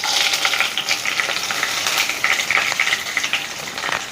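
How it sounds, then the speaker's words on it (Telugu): Dried red chilies and cumin fry in hot oil in a pan for a Bhringraj pickle, giving a loud, steady, crackling sizzle with bright spitting pops throughout and no talk. "ఎండుమిర్చి వేస్తున్నాను."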